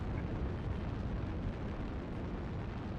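Continuous booming artillery explosions in MechWarrior Online, a dense low rumble of blasts rolling steadily without a break and no voices over it.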